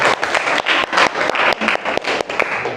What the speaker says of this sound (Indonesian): Oke, tepuk tangan untuk kalian semua.